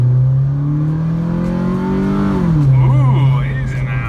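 Inside a 2005 Hyundai Accent on a test drive, the engine hums steadily, rising in pitch as it accelerates, then the revs drop and climb again at a gear change, while a person talks over it.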